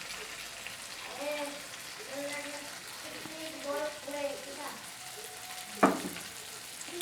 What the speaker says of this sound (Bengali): 1 মুঠ মুগ ডাল ভালো করে ধুয়ে রেখেছি, সেইটা দিয়ে দিলাম এই মশলার সাথেই ভালো করে কষিয়ে নেব